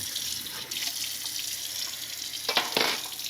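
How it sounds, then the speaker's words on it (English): Hot water runs steadily from a kitchen faucet, a constant close hiss with a couple of brief louder splashes near the end and no voices. "So we're gonna run the water a bit though."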